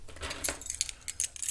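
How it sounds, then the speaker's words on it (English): Keys for a new flat jangle in a few quick metallic bursts close by, with small clinks scattered across the moment and no talking. "I've already got the keys."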